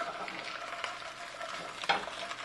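Meat bones browning in a Dutch oven for a red pasta gravy, giving a steady soft sizzle while being stirred, with a sharper scrape near the end.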